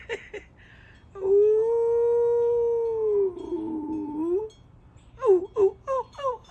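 A person howls in long wavering puppy-like wails and whimpers, imitating a dog, with a sustained howl in the middle followed by short yelping cries near the end, close and clear.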